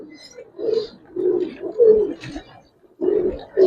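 Giribaz pigeons cooing close by in several short, throaty bursts with brief pauses between them, the calls clear and unaccompanied by talk.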